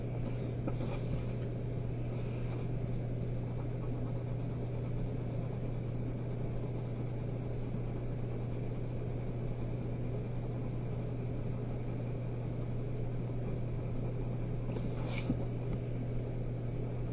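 A pencil shades a cylinder drawing on paper with soft, continuous scratchy strokes, close and quiet over a steady electrical hum, without pause for the whole stretch.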